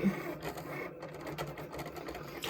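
A Cricut cutting machine works steadily nearby, giving a faint, even mechanical whir with light rhythmic clicks and no talking.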